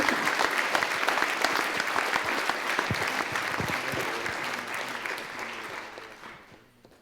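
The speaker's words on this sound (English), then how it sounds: "Please, a round of applause." Sustained audience applause at an evening gathering, loud and dense at first, then gradually thinning and fading out toward the end.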